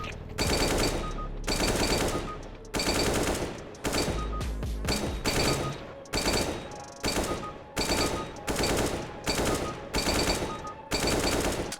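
AK rifle fire in a first-person shooter game, loud repeated automatic bursts in a rapid stop-start rhythm, close and with no talking.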